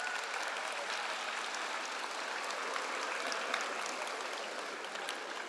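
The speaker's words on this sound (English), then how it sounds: "give these folks a huge round of applause" Graduates and guests at a graduation ceremony give a long, even round of applause, a thick crowd of clapping hands that carries on steadily for over five seconds without any speech.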